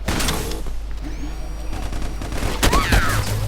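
Minigun fire in the video game MicroVolts, a dense continuous rattling barrage that holds steady at loud volume across the whole stretch, with a few game effect sweeps and a voice occasionally heard underneath.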